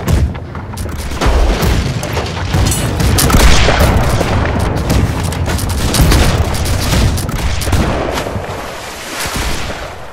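Heavy cannon fire during a pirate ship battle in Blackwake, a loud, dense barrage of overlapping booms and cracks rolling on for several seconds, with no voices over it.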